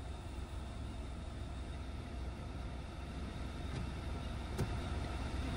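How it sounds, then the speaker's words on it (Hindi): A car engine runs steadily while driving in gear, a faint, low, even hum with road rumble inside the cabin, no voices, and a couple of small clicks near the end. "सेकंड गियर में इंजन थोड़ा सा फ्री हो जाता है, हल्का सा इंजन का जो पावर है वो कम होता है"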